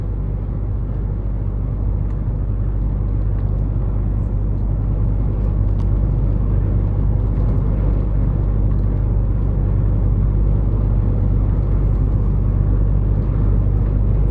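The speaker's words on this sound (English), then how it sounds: "So I've got cars sat up in this lane at the side of me here, so I'm watching these cars here" Steady stream of cars on a 50 mph road, a continuous loud low rumble and whir of passing traffic throughout, with no talking.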